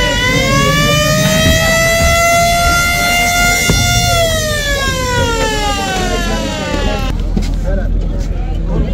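A passenger launch on the Bhola–Barishal river route sounds a long, loud, steady horn blast as it arrives, the tone wavering and then dropping off, with crowd noise and engine rumble underneath.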